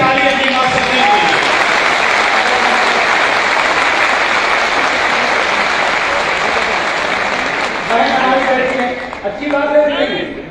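An audience at a speech about the old pension scheme for teachers gives loud, sustained applause that fills most of the stretch, then thins out near the end as a voice begins speaking over it.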